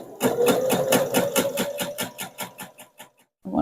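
Sewing machine stitching through a quilt, a rapid even run of needle strokes that slows to a few separate stitches and stops, then briefly starts up again, loud and close with no speech.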